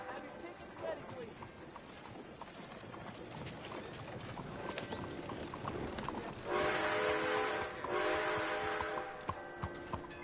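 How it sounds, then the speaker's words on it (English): A locomotive pulls into a station in the video game Red Dead Redemption 2, its steady rumble building before a loud sustained horn blast near the end, with people talking over it. "Next locomotive will be arriving shortly"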